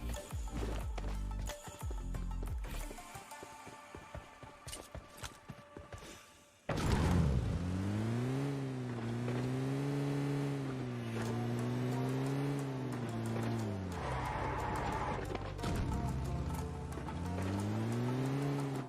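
Vehicle in PUBG Mobile Lite, first with clattering footsteps and thumps, then an engine starting up and droning steadily close by, its pitch rising and falling as it drives.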